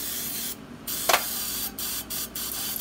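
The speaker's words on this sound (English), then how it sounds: "I'm going to go ahead and spray this with olive oil just to be safe" Several short hissing bursts of an olive oil spray can into a muffin tin, close by, with brief pauses between them and a small clink in the middle.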